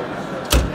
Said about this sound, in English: Door is closed, so you're not able to open the door again.